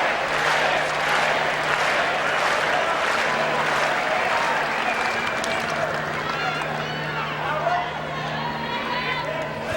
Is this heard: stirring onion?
no